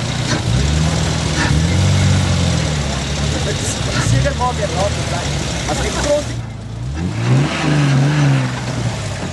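Modified-class 4x4 off-road vehicles compete at the Maxxis National 4x4 Challenge at Rayton, their engines revving and surging at mid distance in a continuous rumble, with a commentator's voice over the top.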